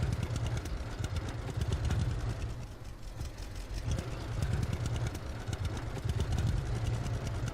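A tractor engine strains while pulling a trailer in the Farmers Dynasty farming game, a steady low rumbling drone with slight surges in load, continuous and alone without talk.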